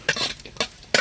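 Vermicelli is stirred in ghee in a pan with a spoon, giving a few quick scraping strokes and light sizzling that come close and fairly soft in brief bursts.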